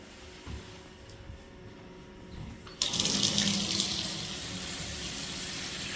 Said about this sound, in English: Decent water volume coming through.